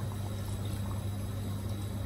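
Water pours steadily into a pot of simmering Hungarian beef goulash, a continuous low gushing wash, close and unbroken, with no talking.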